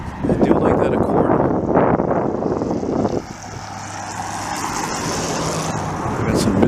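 A Honda Accord rolls past on a Montreal street in Dorval, its loud tire and engine rush swelling then fading into steady roadside traffic noise, with a faint voice in the background.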